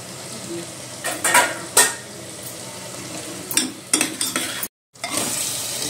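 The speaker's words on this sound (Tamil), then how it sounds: "சிக்கன் பிரியாணிக்கு வந்து சிக்கன் போட்டாச்சு. நல்லா கலந்து விட்டுட்டு" Chicken being stirred into masala in a pot for chicken biryani, with a background sizzle broken by several sharp spoon scrapes and clanks against the pan, close and clear, no speech.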